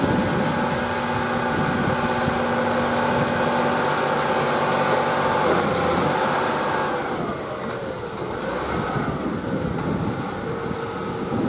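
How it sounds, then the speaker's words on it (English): Heavy engines of two John Deere 8R250 tractors pulling KMC peanut digger inverters drone loudly and steadily, a thick mechanical roar with a shifting whine, no voices present. "This might be two newer tractors too."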